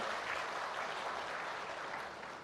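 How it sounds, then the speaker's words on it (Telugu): Audience applause at a mega solar project launch event in Kondapuram, Kadapa, a dense steady clapping crowd sustained throughout without fading. "అందరూ గట్టిగా చప్పట్లు కొట్టమని కోరుతున్నా"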